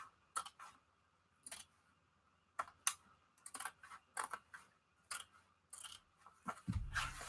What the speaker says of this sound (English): now I'm going to cut off the excess